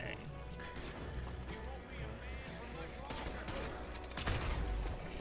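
Shotgun gunfire in the video game Red Dead Online, several sharp blasts and impacts scattered through a busy mix of game noise, with a heavier burst near the end and people talking over it.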